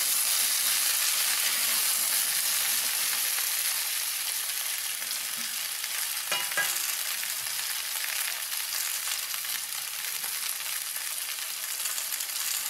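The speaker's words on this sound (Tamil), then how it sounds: "காய் ஒரு 5 நிமிஷம் நல்லா வதங்கட்டும்" Steady, crackling sizzle of mixed vegetables sautéing in a hot pan for kuzhambu, a constant hiss with occasional light stirring scrapes.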